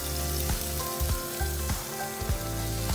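Garlic cloves and green chili frying in butter or oil in a pan for veg burritos, a continuous dense crackling sizzle with periodic stirring knocks, no voices.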